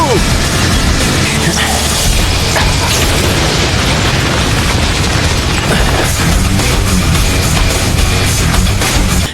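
A fire style fireball jutsu blast from a Naruto Shippuden anime fight thunders as a loud, continuous roaring explosion, dense and unbroken throughout.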